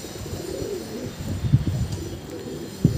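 A white pigeon coos softly nearby, a few low throaty calls with a brief pause between them.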